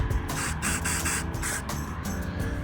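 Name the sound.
spray paint can spraying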